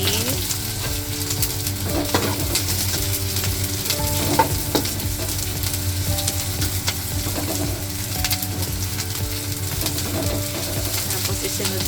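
Garlic sizzles loudly in hot oil in a frying pan for a Japanese seafood curry, with a dense, steady crackle and the scrape and clink of a utensil stirring close by, with no talking.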